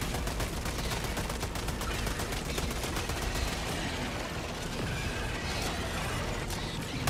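Rapid gunfire in the Helldivers 2 video game crackles continuously throughout, dense bursts of shots layered with battle noise at a steady loud level, with no voices.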